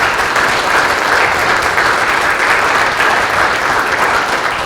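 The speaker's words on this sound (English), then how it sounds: "hopefully they hear our applause in the back" An audience at a Northern Macomb Regional Chamber of Commerce breakfast forum claps loudly and evenly for the chamber staff, a dense sustained round of applause with no voices over it.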